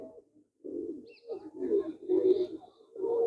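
Pigeons coo repeatedly in low, throaty rolling phrases, fairly close, with a few faint higher chirps in between.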